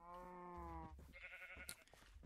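A sheep bleats in a video game, one drawn-out tonal cry followed by shorter animal calls, quiet and alone.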